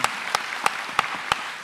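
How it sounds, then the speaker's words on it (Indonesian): An audience at an Indonesian talk and discussion event claps together in a steady, dense burst of applause, with a few sharper claps standing out at a regular beat. "Ajak tepuk tangan buat orang-orang yang berintegritas itu."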